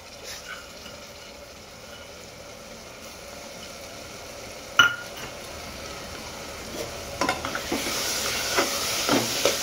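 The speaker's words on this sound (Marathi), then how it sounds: "जरा व्यवस्थित डाळीला चांगला भाजून घेऊ" A mix of toor, moong, matki and masoor dal is dry-roasted in a pan, a soft hiss joined by occasional spoon scrapes and one sharp clink midway, with stirring growing busier toward the end.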